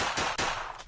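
Glock pistol shots in the blocky shooter game Blockpost, a quick run of three or four sharp, loud reports in under a second.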